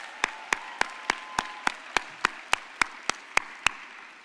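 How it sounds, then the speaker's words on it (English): An audience at a Society of Women Engineers closing keynote claps in unison, with about fifteen sharp, evenly spaced beats in a quick, steady rhythm over a faint room murmur. "One more clap, come on, woo!"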